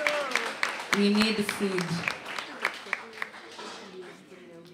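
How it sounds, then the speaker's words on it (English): A comedy club audience applauds a farmer during crowd work, a short burst of clapping rising under ongoing talk and laughter before fading as conversation continues. "Clap for her"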